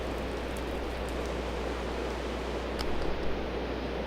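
Steady hiss of rain falling in the Minecraft video game, a dense, even wash of noise that stays constant throughout with no voices over it.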